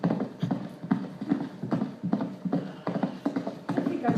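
Horse hooves clip-clop as a radio show sound effect, steady close clattering beats repeating throughout at a moderate trotting rhythm, loud and alone without talk.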